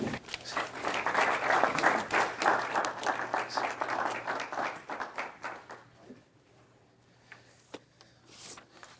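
Sustained audience applause in an evening lecture hall at Duke, welcoming a guest lecturer, dense clapping from many hands that swells, holds steady for about five seconds, then thins out and stops.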